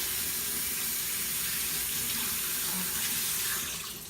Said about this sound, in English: I'm going to have to rinse my hands a little here really quick.